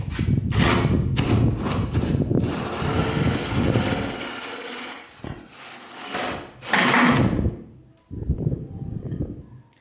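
A dowel making device cuts a thick 20 mm dowel with a loud, rough, whirring power-tool grind that starts and stops in bursts, then drops to quieter pauses and a final lower rumble.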